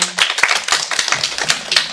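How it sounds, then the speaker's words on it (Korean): Concert audience at a college talk-concert claps in a lively, uneven burst, individual hand claps sharp and close, a scattered round of applause with no voices. "다시 한번 큰 박수 주세요"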